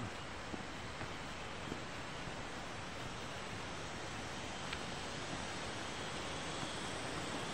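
Steady broadband rush of flowing water, constant and enveloping, with no voices and only a faint breezy edge.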